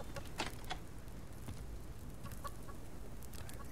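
Chickens in the survival video game Subsistence cluck in short, scattered calls over a steady soft outdoor ambience, quiet and moderately distant, with no talking.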